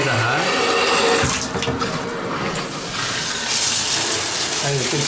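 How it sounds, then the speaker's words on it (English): Hot water pouring steadily from a tap into a new bathtub, a continuous close, full rush of splashing water with no talk over it. "We're going to turn on the water. That's all the way to hot."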